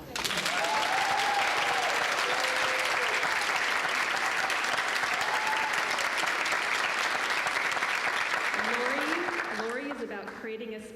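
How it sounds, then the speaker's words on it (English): A large audience at a state educator awards ceremony applauds steadily for about nine seconds, with faint cheering voices mixed in. The clapping tapers off as a speaker begins talking near the end. "it is okay to clap"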